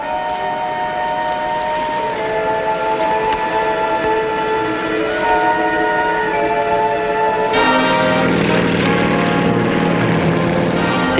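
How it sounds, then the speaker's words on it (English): A WWII carrier-based propeller plane comes in to land, its steady engine drone rich with tonal harmonics that shift abruptly and grow brighter partway through, sustained and fairly close with no talk. "At noon, the first carrier-based plane comes in for a landing."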